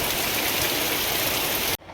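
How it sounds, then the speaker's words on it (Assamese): Heavy wind-driven rain pours down as a dense, loud, steady wash of noise, ending abruptly just before the end of the clip. "পুৰা বতাহ বৰষুণ"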